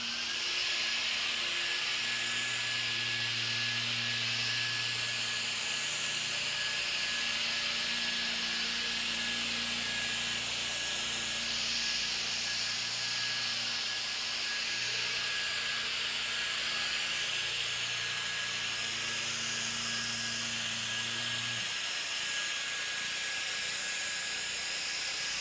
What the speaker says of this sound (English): This is their latest and greatest blower.